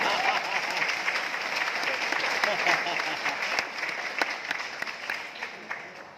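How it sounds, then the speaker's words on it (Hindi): A live audience claps in a steady, dense round of applause that holds for several seconds and eases slightly toward the end. "आपने तालियां बजाई मेरे कहने के अंदाज पे"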